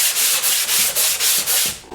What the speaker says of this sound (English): getting some mesh sandpaper and a little sander block like this